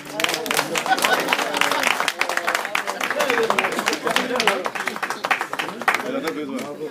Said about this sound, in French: Applaudissez-moi un peu.